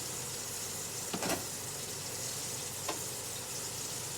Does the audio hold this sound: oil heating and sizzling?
yes